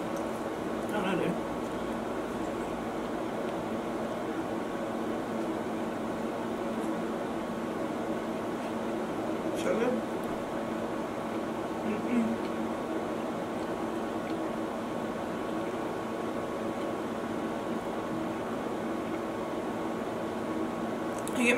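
Room air conditioning running as a steady, faint broadband hum with a low tonal drone, continuous throughout about twenty seconds beneath a person talking.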